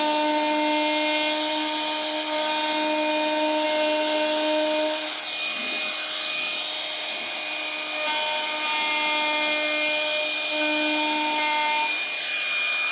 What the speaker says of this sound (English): I've got a very tiny roundover bit here, and that's what I'm going to do now.